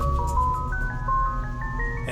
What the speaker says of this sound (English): The Tesla driver counters with ice cream truck sound from the boombox.